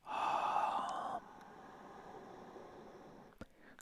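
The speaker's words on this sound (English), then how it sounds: "creating that ujjayi sound, the victory breath." Ujjayi victory breath in yoga, exhaled with the mouth closed: one close, breathy, hissing exhale that is strong at first and then softens into a quieter, lingering airy sound.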